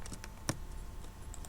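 A computer keyboard being used to copy data in a statistics program: a few quiet key clicks, one sharper press standing out, over faint room hiss.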